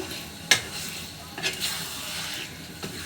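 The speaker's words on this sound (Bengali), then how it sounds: "মশলার সঙ্গে মিশিয়ে নিব।" Chicken meat with spices is stirred in a pan, a soft continuous sizzle broken by a few scraping strokes of the spoon against the pan.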